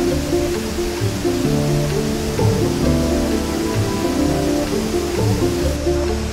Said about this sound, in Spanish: en la cascada azul.